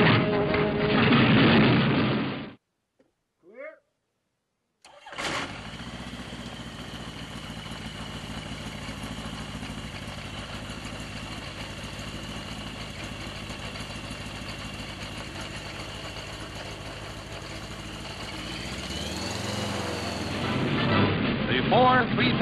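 Four 3,000 horsepower engines on a 25-ton Flying Wing aircraft start up with a loud burst, then settle into a steady, sustained droning roar as the coaxial propellers turn; a voice is heard briefly before the start.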